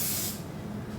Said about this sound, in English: We are going to spray and flour our pan.